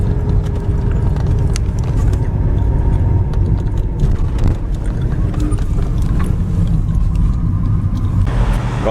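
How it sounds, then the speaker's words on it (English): A Holden Commodore HSV SV89 with a V8 cruising on an Australian road trip, heard as a steady low engine drone and road rumble from inside the car, continuous and fairly loud with no talk. "Car is running sweet and no other dramas yet"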